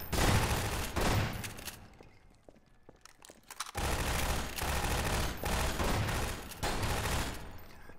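Sustained bursts of rapid automatic gunfire in the Black Ops video game, loud and dense, with a brief lull near the middle before the shooting resumes and continues to the end.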